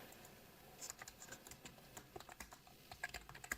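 Code being typed on a computer keyboard, a quiet, irregular run of rapid key clicks in short bursts, close and alone with no voices.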